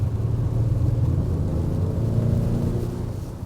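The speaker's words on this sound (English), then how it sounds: "the sound that they use for sport, it kind of sounds like a Subaru. It has this kind of thrumping noise to it." Synthetic sport-mode engine sound for an Acura RDX plays through the cabin speakers, a deep, thrumming rumble that stays close and steady, swelling slightly before easing off.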